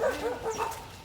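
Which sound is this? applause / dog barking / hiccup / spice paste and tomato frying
dog barking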